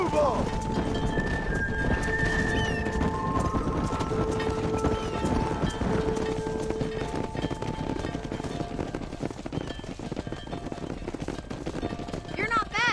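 A herd of horses galloping in the western game Red Dead Redemption, dense continuous hoofbeats with snorts and whinnies, mixed under sustained music-like tones and ambient noise throughout.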